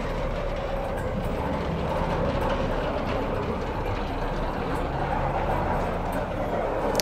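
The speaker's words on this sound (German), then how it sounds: "So, dann ziehen wir doch mal den Aufzug hoch" An elevator hoisted upward by winch in the Batman: Arkham Knight video game gives a steady, dense mechanical rumble and grind that holds at an even, fairly loud level throughout, with no speech over it.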